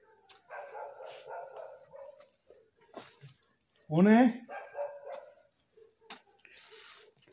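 Dogs bark and whine at night outdoors, with several sharp barks and a rising yelp between spoken voices of people walking in the dark.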